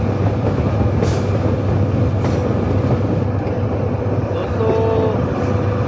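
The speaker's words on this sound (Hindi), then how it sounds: "विंडी कॉर्नर से ट्रेन निकलेगी।" Jaffar Express passenger train of Pakistan Railways running near Windy Corner on the Quetta to Mach line, heard from aboard as a loud continuous rumble and rattle of wheels and carriages, with a brief squeal near the end.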